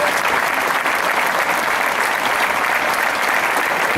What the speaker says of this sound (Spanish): les voy a volver a pedir un aplauso para todas estas personas